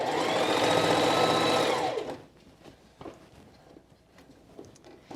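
A sewing machine runs in one loud continuous burst while stitching a quilted jacket sleeve, then stops abruptly and leaves only quiet handling clicks and soft rustles.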